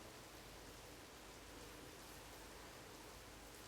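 Steady rain falls outside over green, growing countryside, a soft even hiss with no single drops standing out, continuous and moderately distant, no voices present.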